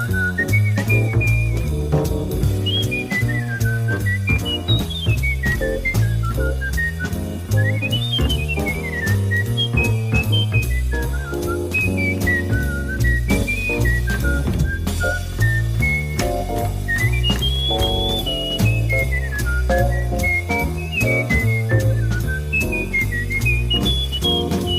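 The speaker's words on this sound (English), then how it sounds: "the sound of whistling and flute together as heard on the head" Whistling doubled by a flute carries the melody of a jazz tune's head over a full band, with the bright, wavering line weaving continuously above the accompaniment, loud and upfront.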